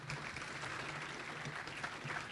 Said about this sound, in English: let's give an advance round of applause for our speakers